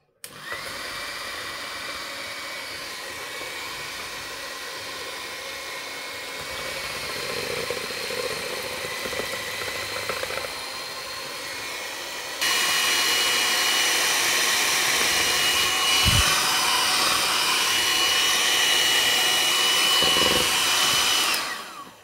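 An electric hand mixer beats cake batter with vanilla for an apple cake, making a continuous close motor whir that steps up in pitch and loudness midway and keeps running steadily, with no voices.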